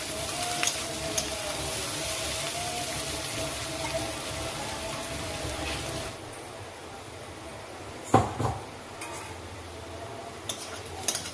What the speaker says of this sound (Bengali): পেঁয়াজটাকে খুব ভালোভাবে ভেজে নিতে হবে যতক্ষণ না পেঁয়াজটা ব্রাউন কালার হবে